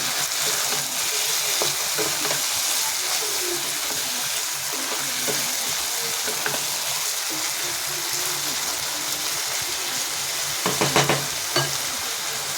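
Spice mix frying in a pan with a little water added sizzles and hisses steadily throughout, with a brief bubbling flurry of stirring near the end and no voices.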